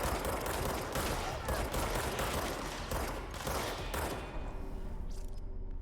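Dense, continuous gunfire in the video game Control, rapid overlapping shots and thuds filling the mix at close range, tapering slightly toward the end with a faint voice underneath.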